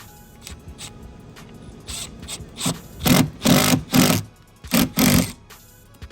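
Impact driver sinking screws into Seadoo Apex RXPX 300 fender mounts: a few faint taps, then a run of loud hammering bursts, each lasting around half a second, with short gaps between them, close to the listener.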